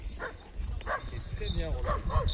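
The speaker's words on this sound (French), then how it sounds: "Il y a des petits grelots sur les chiens. Oh, ils vont aboyer en plus." Dogs wearing small bells give a few short barks and yips amid speech on a walk, close and moderately loud.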